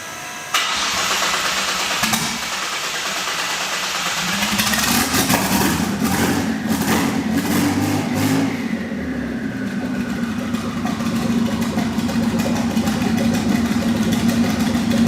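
A twin-turbo Mitsubishi Triton running eBay turbos on a Magnum manifold, loud and close on a dyno, revs up hard and holds a steady, droning load before the pitch sweeps up then eases back.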